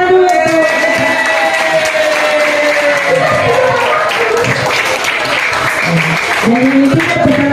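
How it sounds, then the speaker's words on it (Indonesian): A student organisation audience at a school farewell event breaks into loud applause with scattered cheers, while voices talk over the clapping at times. "Oke, tepuk tangan dulu."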